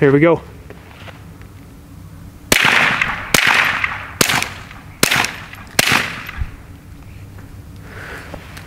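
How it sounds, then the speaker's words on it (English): Five suppressed rifle shots from a Volquartsen Black Mamba fitted with a Silent Chicot suppressor, sharp close cracks spaced under a second apart, following a brief spoken line. "So let me take this off and put the suppressor on and we'll shoot five more."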